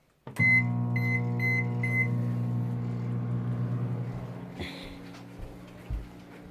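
A microwave oven with orange peels inside starts with a beep, then runs with a steady low electrical hum and fan drone, ending with a click and a few faint thumps.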